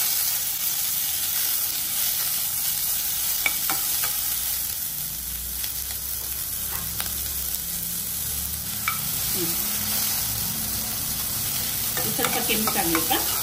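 Chopped onion and green chili frying in hot oil as tempering for a leafy greens curry, a steady close sizzle with stirring scrapes throughout and no talking.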